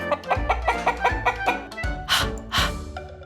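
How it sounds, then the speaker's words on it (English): A hen clucks in a quick, rhythmic series of close clucks, ending with a couple of louder, drawn-out squawks. "Hen."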